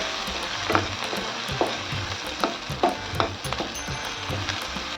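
Chili powder, coriander powder and turmeric masala fry in a pan with a steady, close sizzle, broken by repeated sharp scrapes and clacks as a spoon stirs the mixture, with no one talking.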